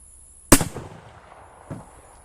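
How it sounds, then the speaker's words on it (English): A single sharp shot from a cut-down gain-twist Carcano rifle cracks loudly nearby, followed by a decaying echo and a fainter second report about a second later. "let me line this up and fire again."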